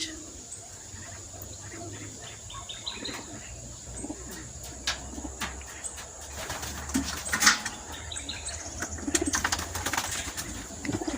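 Racing pigeons returning from a training release in Candelaria, Quezon coo softly at the loft, with faint chirps, scattered clicks and light wing sounds over a low background hum.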